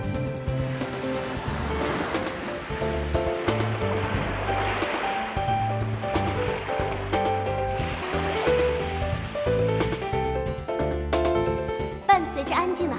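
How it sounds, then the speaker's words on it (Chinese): Gentle morning sea waves wash softly and continuously, half buried beneath steady background music, with no clear breaks or crashes. "早上的海浪声是最安静的"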